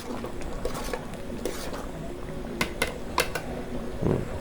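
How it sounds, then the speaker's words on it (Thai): Curry made with pounded rice and lemongrass is stirred in a cooking pot, giving soft scraping and clinking strokes at close range with a few sharper knocks against the pot over steady background noise. "ปลุกเข้าให้เข้ากัน เดี๋ยวข้าวที่เราตำเดี๋ยวมันจะติดที่พื้น หม้อเดี๋ยวมันจะไหม้หม้อนะครับ"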